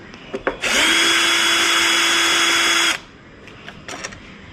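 A power tool spins up and runs steadily for about two seconds, loosening the mirror bolts on a Yamaha R15 V3 motorcycle, loud and close, then cuts off sharply, with faint clicks before and after.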